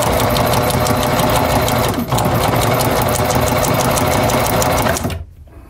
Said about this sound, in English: I'm gonna finish this stitch, drop my needle in, lift my foot, pivot, drop my foot down, sew straight to the end.